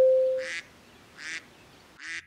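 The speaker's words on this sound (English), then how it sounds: "look at the poor duck." Three nasal quacks from a duck come at a steady pace over a quiet background, with a few tonal synthetic beeps between them in a cartoon-style setting.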